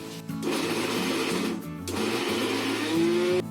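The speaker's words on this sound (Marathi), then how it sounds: "आता याच्यामध्ये ना हे अशी सोयाबीन बारीक वाटून घ्यायची" A mixer grinder finely grinding soybeans whirs loudly and steadily for several seconds, its motor pitch dipping briefly partway through as the load shifts, with no voices.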